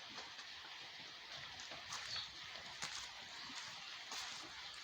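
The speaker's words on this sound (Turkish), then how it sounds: "Yağmur tekrar başladı. Hızlanmaya başladı." Steady rain hisses down in a dense, even wash, with a few slightly louder splatters now and then and no voices.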